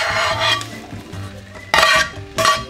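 Eggs stir-fried into fried rice in a wok over the flame, a steady close sizzle with repeated bursts of scraping and clattering as the spatula tosses the rice, with music playing underneath.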